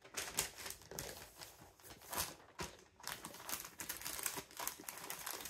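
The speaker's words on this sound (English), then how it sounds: "And tape it." Packing tape pulled and pressed onto a folded shipping package, with quiet crinkling, tearing and tapping bursts close by, no talking.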